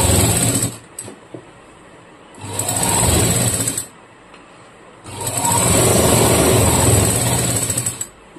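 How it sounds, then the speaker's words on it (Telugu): A home sewing machine stitches a nightie in two steady running bursts, a shorter one followed by a longer one, each broken up by brief quiet pauses. The whirring is close and even, and no one speaks. "దీనిపైన స్టిచ్ అనేది వేసుకొచ్చేద్దాము ఫ్రెండ్స్"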